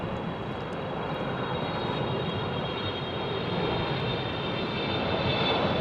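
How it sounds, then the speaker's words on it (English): A Japan Airlines Boeing 777 roars at London Heathrow on a windy day, its jet engine noise loud, broad and steady throughout with a faint high whine on top, no voices. "Nice big Japan Airlines 777."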